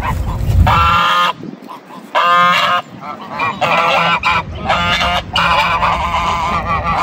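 Loud geese honking close by in a park in repeated harsh bursts, several calls overlapping, with short pauses between them.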